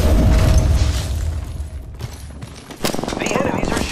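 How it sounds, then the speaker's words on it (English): Gunfire from enemies in an Apex Legends match, with dense rattling bursts and booming shots at the start, a lull, then renewed shooting near the end, mixed with game noise. "The enemies are shooting at me."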